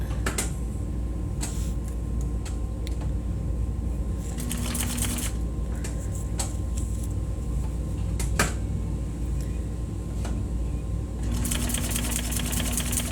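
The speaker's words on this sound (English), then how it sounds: "We're going to drop that needle down right where the stitch is in the corner." A sewing machine runs in stitching bursts while sewing the corner of a box cushion. Its rapid mechanical chatter starts and stops, with clicks and pauses between runs, and no talk.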